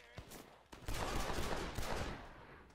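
Western pistol gunfire in the video game Red Dead Redemption pops in a couple of isolated shots, then breaks into a dense, sustained burst of rapid shooting amid game noise, with faint talk underneath.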